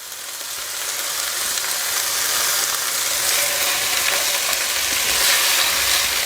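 Tomato with freshly grated garlic cooking in a hot pan, a loud continuous sizzle and crackle that swells slightly and holds steady throughout, close up with no talking.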